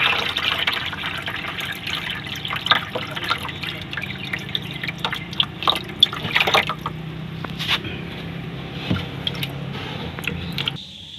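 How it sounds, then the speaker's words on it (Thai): Frog eggs poured with water into a foam box, giving steady dripping and splashing liquid sounds with scattered louder splats, close and continuous, with no talking. "เดี๋ยวจะนำไข่อื่นนะครับมาเทใส่ในลังโฟมเลยนะครับ"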